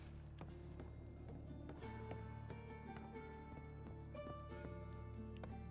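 A horse galloping in the video game Witcher 3, a steady clip-clop of hooves running under a constant game music bed with sustained tones, moderately loud throughout.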